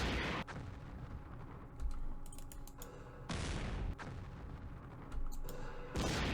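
Units exchange gunfire and artillery in the Campaign Series Middle East wargame on a Suez map. Several sharp bursts and booms come at irregular intervals, some with quick rattling volleys, and quieter gaps fall between them.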